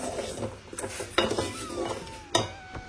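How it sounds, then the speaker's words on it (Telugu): Kitchen dishes and vessels waiting to be scrubbed clink and clatter nearby in a few sharp knocks over a soft background rustle. "సో ఇవన్నీ తోమడానికి ఇవ్వాల్సిన గిన్నెలు అనమాట"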